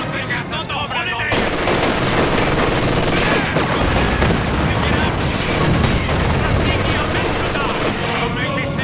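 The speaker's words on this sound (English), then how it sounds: "Penal squads are now available to die for the motherland. They are shooting." Penal squad gunfire in a World War II style war video game, dense overlapping rifle and machine gun shots with distant booms forming a loud continuous battle din.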